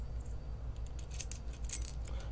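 Two Kwikset-keyway keys for a Kaba Ilco rim-cylinder night latch jangle together in a few light metallic clinks, close and fairly soft over a low background hum.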